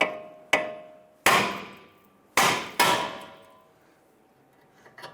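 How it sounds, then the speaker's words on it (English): Five sharp metallic hammer blows strike a steering knuckle to free the ball joint on a 2005-2010 Chrysler 300, each ringing clang decaying before the next, at an irregular pace. "use a hammer and I'm going to strike the knuckle right here"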